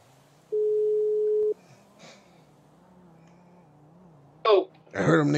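Phone tone after a call hangs up in a GTA RP video game, one clean steady beep lasting about a second, followed by quiet and then brief bursts of nearby voice.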